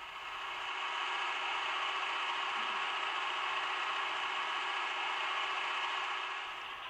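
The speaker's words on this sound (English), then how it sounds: "This allows the engine sound to operate independently of the locomotive speed." A steady, droning diesel engine hum from an HO scale ScaleTrains SD40T-2 model locomotive sound system, holding at one level for several seconds before cutting off.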